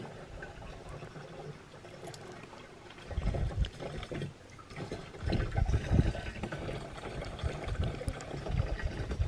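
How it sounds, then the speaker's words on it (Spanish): Water splashing and sloshing as a small child plays with it outdoors at a plant nursery, with irregular bursts of wet splashes growing louder after a quieter start. "No juegues con el agua, Carlita."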